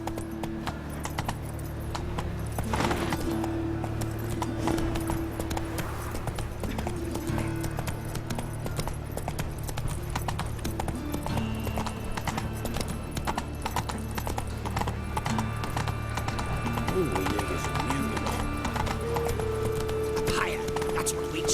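Hooves of Roach, a horse in The Witcher 3 video game, clip-clop in a steady galloping rhythm while a voice speaks over it and game music and ambience play underneath.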